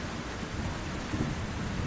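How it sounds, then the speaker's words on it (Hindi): Steady heavy rain pours down while deep thunder rolls beneath it, a dense, continuous wash of sound with no voices. "अब बारिश के रुकने तक हम सब यही रहेंगे"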